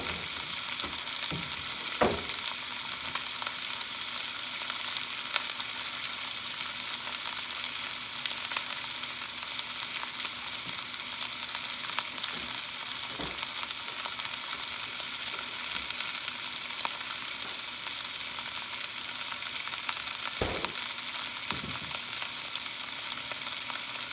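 Sausage browning in a pan for sausage gravy, a steady close frying sizzle with no talk over it, broken now and then by short scrapes and stirs.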